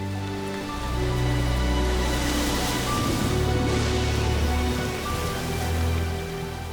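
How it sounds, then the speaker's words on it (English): Heavy rain pours down steadily on the Amazon forest, a dense and continuous hiss of drops that swells and eases slightly without pause. "Up to 3 meters of rain falls here each year."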